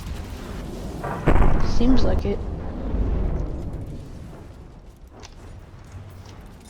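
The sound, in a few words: cannon fire and explosions in video game From the Depths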